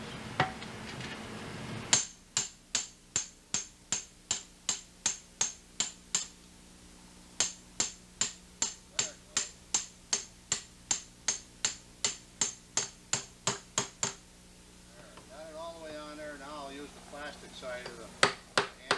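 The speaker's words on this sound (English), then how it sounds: "Side of the hammer, take out all the dents." Rapid, evenly spaced metallic taps of a hammer's side knocking dents out of a thin beer can, in two long runs with a short pause between, close and ringing.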